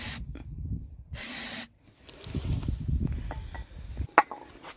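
Starting fluid sprays from an aerosol can into a Wacker portable generator, two or three short bursts of close hissing separated by quiet, with faint handling clatter and a sharp click near the end.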